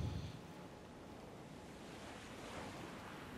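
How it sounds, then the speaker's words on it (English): Ocean waves washing onto a beach in the video game Elden Ring, a soft, continuous surf rush with slight swells, distant and quiet, with no voices. "the sounds of the waves crashing on the beach"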